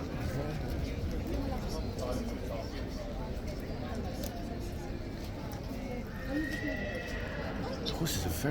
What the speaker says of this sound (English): The horses are very vocal in the stables